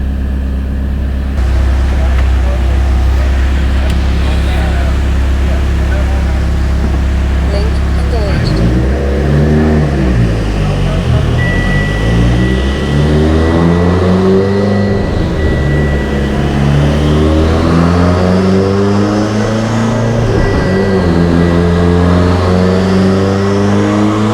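A Mitsubishi Evo X running E85 with a Garrett GTX3582 turbo, Kelford 214-B cams, 1200 cc injectors and stock block revs repeatedly at part throttle, with a loud engine note rising and falling in waves under a steady idle drone.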